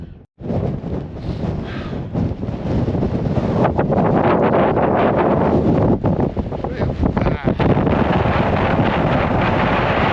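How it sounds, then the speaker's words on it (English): Loud gusting wind buffets the microphone in a continuous roar on the summit of Ben Vorlich, swelling stronger partway through. "You get the gusts every now and again, and yeah, right now it's picking up a little bit"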